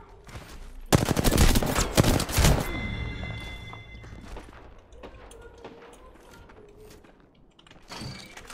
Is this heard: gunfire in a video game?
yes